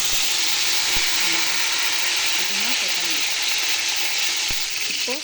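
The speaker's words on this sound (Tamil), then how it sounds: "அடுத்தது வெங்காயத்தை போட்டுக்கலாம் கொஞ்சம் புதினா கொத்தமல்லி போட்டுக்கலாம்" Onions, mint and coriander frying in hot oil for biryani, a dense, loud, continuous sizzle with a couple of sharp clicks and faint background tones.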